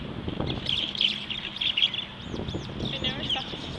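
Birds chirp and tweet in short bright bursts, several calls spread across a few seconds, with a person talking quietly underneath.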